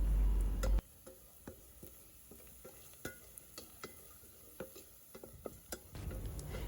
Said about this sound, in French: Là, on va faire revenir le soumara.